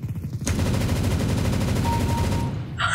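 A rapid automatic gun in CS:GO fires a sustained burst of closely spaced shots, loud and near, cutting off abruptly before a brief metallic clatter.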